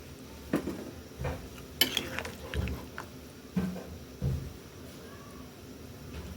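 A spoon stirring snakehead fish curry with tomatoes and potatoes in a pan, giving a handful of close clinks and scrapes against the metal at an uneven pace over a quiet background.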